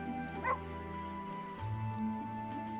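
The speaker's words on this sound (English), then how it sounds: "By the way, I like the dog." A dog in the video game Metaphor: ReFantazio gives a couple of short yips and whimpers, one early and one late, over a steady background of game music.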